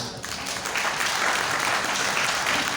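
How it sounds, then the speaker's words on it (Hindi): Audience applause at a patriotic poetry recitation, a brief burst of dense clapping that holds steady throughout, with no voices over it. "तालियों से समर्थन जरूर होना चाहिए"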